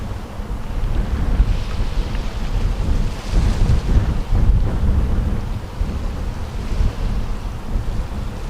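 Strong wind buffeting a shore, a loud continuous low roar and rumble with gusting surges and no voices.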